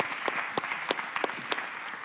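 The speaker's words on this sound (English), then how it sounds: "applause" Audience applause on a main conference stage after a hackathon winners' presentation, a moderate crowd clapping with a few sharp individual claps standing out, steady throughout.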